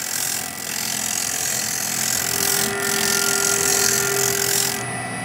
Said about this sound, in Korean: 자, 그러면 얘를 꼽아서 제가 사포를 한번 쳐볼게요